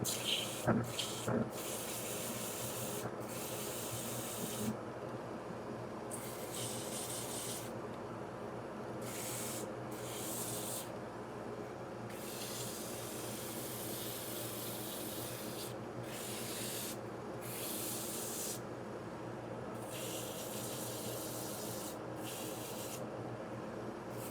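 Wood is hand sanded with 120 grit sandpaper in steady back-and-forth strokes, a close, continuous rasping hiss with brief pauses between passes.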